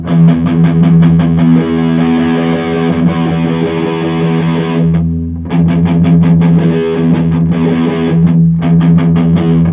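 A distorted electric guitar chugs a palm-muted open low E in a steady, driving rhythm, loud and close, with one brief pause midway.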